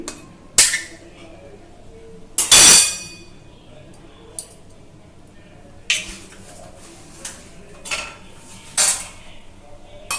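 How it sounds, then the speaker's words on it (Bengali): Three eggs are cracked into soaked semolina in a bowl, giving a few sharp, close taps and clinks spaced a few seconds apart, with quieter handling sounds between them. "এবার আমি এতে দিয়ে দেব 3টে ডিম"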